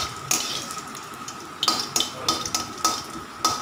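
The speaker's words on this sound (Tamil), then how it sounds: "அந்த விழுதையும் போட்டு அந்த எண்ணெயிலையே நல்லா வதக்கணும்" Ground paste sautés in oil for a cowpea curry, a faint sizzle under sharp metal spatula taps and scrapes against the pan that come in a loose rhythm, growing busier in the second half.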